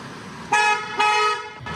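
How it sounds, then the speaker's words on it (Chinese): A car horn toots twice in quick succession on a road by Luodong Sports Park in Taiwan, loud and close, each blast lasting about half a second over steady traffic hum. "经过车若看到人坐挡在路的时阵，惊危险，拢会起喇叭"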